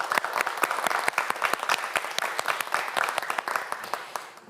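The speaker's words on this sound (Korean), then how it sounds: "큰 박수 부탁드립니다" An audience applauding a student contestant at a televised science quiz show, a room of people clapping with distinct sharp individual claps audible, steady and lively throughout.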